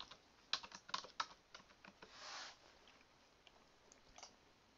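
Close, quiet typing on a computer keyboard, with a few clustered key taps, a short soft rustle in the middle, then sparse clicks.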